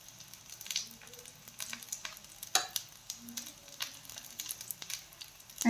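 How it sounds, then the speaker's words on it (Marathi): Green pea (matar) cutlets shallow-fry in a little oil in a pan. A quiet, steady sizzle is broken by scattered sharp crackles and pops, with no voices. "डीप फ्राय करू शकता, पण मी इथे शॅलो फ्राय करत आहे।"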